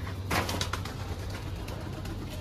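Several pigeons and doves coo softly in a low murmur at feeding time, with a brief flutter or rustle near the start.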